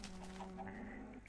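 Chickens in the Minecraft video game clucking, a steady run of short tonal calls with a continuous low game-audio hum beneath, moderately loud and without talk.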